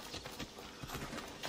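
Hoofbeats of a summoned horse approach at a steady clip-clop in Assassin's Creed Odyssey, repeated rhythmic thuds over an ambient game backdrop.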